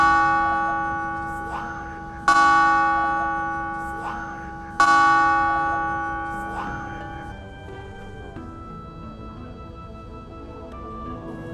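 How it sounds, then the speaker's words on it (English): Church bells in Venice strike the hour: loud, ringing tolls spaced about two and a half seconds apart, each decaying into a long shimmering hum, with a quieter, softer bell continuing near the end. "Enjoy the bells striking the hour."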